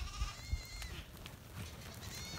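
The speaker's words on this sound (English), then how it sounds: "The line of billy goats." Billy goats bleat in a line on an outback station south of Menindee, several wavering calls rising at moments over a steady background of low rumble, fairly faint and with no talking.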